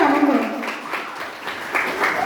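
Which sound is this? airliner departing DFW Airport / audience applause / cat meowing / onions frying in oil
audience applause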